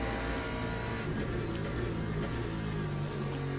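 Hypercar engine in the Le Mans Ultimate racing game, a loud steady drone with layered harmonics held throughout, a few brief clicks over the sustained note.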